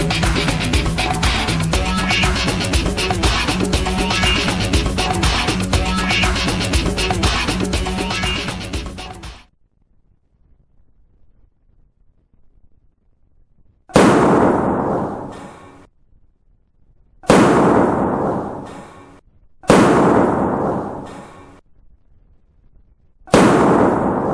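A bomb disposal unit's water disruptor gun, fired at a real explosive device, lets off four sharp, loud blasts, each decaying quickly, after a stretch of loud continuous noise and a short quiet pause.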